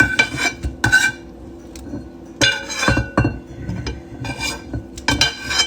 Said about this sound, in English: And now I'm going to transfer the squash and the onions